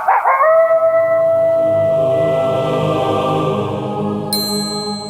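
A dog howls in a long, sustained tone inside a musical stinger for Wolf House versus Prayer House, opening with a bright hit and ringing on, ending with a high chime.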